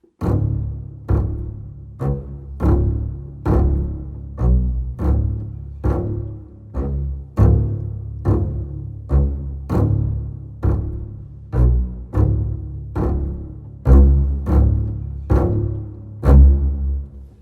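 Spitfire Audio Chamber Strings Essentials sample library plays a sequence of short, biting string notes in a steady rhythm, each attack sharp and decaying quickly, loud and clear with no talking.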